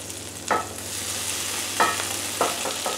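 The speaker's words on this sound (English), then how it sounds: "I'm going to dump the whole thing right into the pan." Rice goes into a pan of melting butter with a continuous frying sizzle. A few scraping, stirring strokes stand out at irregular moments, nearby and moderately loud, with no voices.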